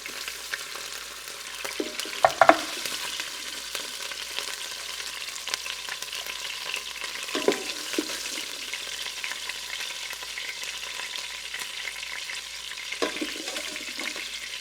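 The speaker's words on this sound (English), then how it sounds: "we use that to saute the vegetables" Vegetables sauté in sausage grease in a pressure cooker pot, giving a steady close sizzle and frying hiss with a few clattering stirs of a utensil scraping the pot.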